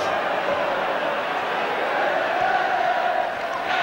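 A packed football crowd of around 60,000 at Old Trafford for a 1976 League Cup tie between Manchester United and Everton produces a constant, distant roar with no lulls.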